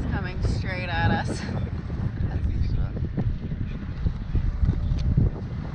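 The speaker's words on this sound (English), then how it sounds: "the wind is coming straight at us" Strong wind buffets a boat on open water off Sardinia, a steady loud roar of gusts across the microphone with brief bursts of other sound mixed in.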